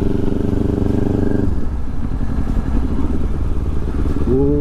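A motorcycle rides along a road in New Zealand beside green water, with a steady engine drone and a shift in tone as the revs change, recorded close and loud without talk.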